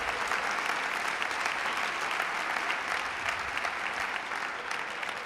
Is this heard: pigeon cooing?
no